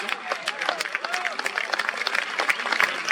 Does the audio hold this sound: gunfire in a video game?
no